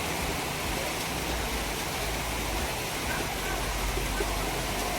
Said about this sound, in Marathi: हे पाऊस चालू आहे.